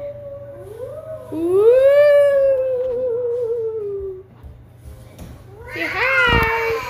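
A baby imitates ghost sounds with long wavering, rising and falling hooting vocalizations, loud and close, ending in a higher squealing wail.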